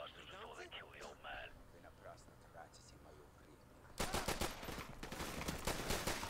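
Rapid gunshots in Modern Warfare Remastered burst in sharply after a quieter stretch of game ambience and voices, a loud, close string of cracking shots continuing to the end.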